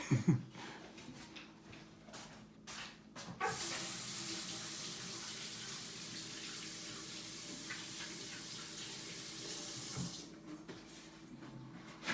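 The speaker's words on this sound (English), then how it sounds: "I'm gonna wash my hands real quick." Tap water runs steadily into a kitchen sink for about seven seconds during hand washing after assembling an angel food cake tiramisu, with soft clicks and handling sounds before and after the flow.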